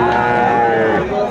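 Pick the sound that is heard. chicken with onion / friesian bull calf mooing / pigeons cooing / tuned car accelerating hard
friesian bull calf mooing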